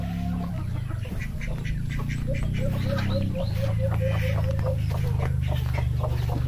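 Pet ducks quack in a rapid, evenly spaced run of nasal calls over a steady low hum, fairly close and clear, with more quacks and rustling around them.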